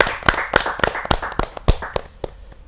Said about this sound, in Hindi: हास्य कवि महेंद्र अजनबी जी का हम जोरदार ताली का स्वागत करते